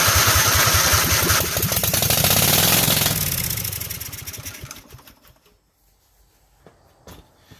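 A Kohler small engine with a swapped ignition coil, pulled over with the choke set, starts and runs loud and steady up close, its rumble easing off and settling after about three seconds, then giving way to quiet clicks and handling noises.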